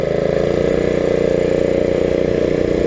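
A minibike engine runs steadily nearby, a loud continuous buzzing drone that holds an even pitch throughout, with no talking.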